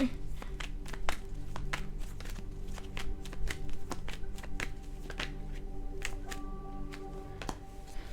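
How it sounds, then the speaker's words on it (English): Tarot cards are shuffled and tumble out in a run of soft, rapid slaps and flutters, close by, with a low murmur and hum in the background. "Wouldn't be a fire sign reading if my cards didn't fall everywhere."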